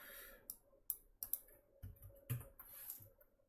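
Keys pressed on a computer keyboard at a desk, a few sharp, separate clicks and taps at irregular intervals, close and fairly quiet, with no talk.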